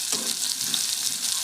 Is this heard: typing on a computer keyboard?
no